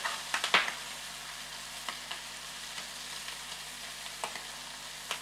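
Chopped shallots and mushrooms sautéing in a pan beside lobster pieces, giving a soft, steady sizzle with a cluster of utensil clicks early on and scattered light taps after, close and unaccompanied by speech.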